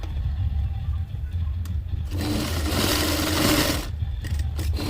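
A sewing machine stitches a saree pallu in one continuous whirring run that rises to a louder, denser burst in the middle and then settles, heard close up with no voices.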